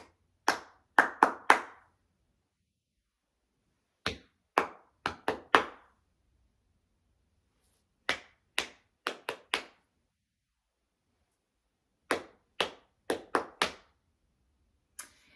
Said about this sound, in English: First, me clapping, then them clapping